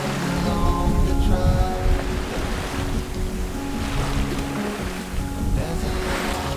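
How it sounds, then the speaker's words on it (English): Ocean swell and breaking waves wash steadily against a sailing boat on an Atlantic crossing toward the Canary Islands, a dense continuous roar with a low rumble throughout. "The swell out here is absolutely delicious compared to the Med"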